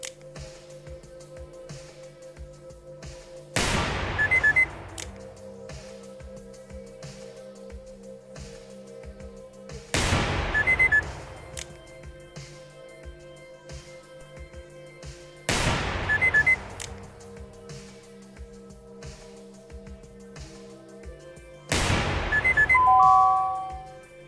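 Four widely spaced gunshots ring out in the video game Receiver 2, each a sharp loud crack with a decaying ring, fired roughly every six seconds over a quiet, faintly humming background.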